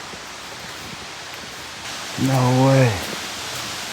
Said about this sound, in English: Hearing the waterfall